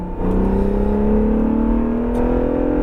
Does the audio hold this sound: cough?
no